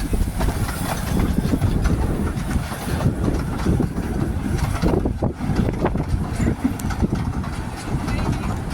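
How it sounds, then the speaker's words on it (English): A miniature railway train pulls away from the station at the Fairbourne Miniature Railway gala, a continuous loud rumble with rhythmic clicking of wheels on rail joints and hissing, close by throughout. "saw that train departing from the station"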